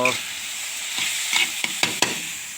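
Wild holy basil stir-fried with minced pork, chili and garlic in a dry pan without oil: a steady close sizzle broken by several sharp scraping stirs toward the end, with no voices.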